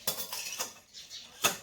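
Metal utensils clink softly and close by while a steel lunch tiffin is packed in a home kitchen, a few brief, quiet chinks spaced apart, with no talking.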